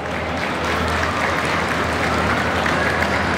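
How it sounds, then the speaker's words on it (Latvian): A crowd at a ZooExpo breed demonstration gives Olga steady, dense applause that holds at an even level throughout. "Aplausi Olgai."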